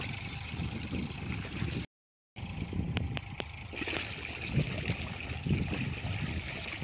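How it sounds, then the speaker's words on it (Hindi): A water pump motor runs in a village while water flows through a connected pipe, giving a steady low rushing hum broken by a brief silent gap and a few sharp clicks. "तो शोहर यहाँ पर पाइप जोड़ रहे थे और मोटर चला रहे थे"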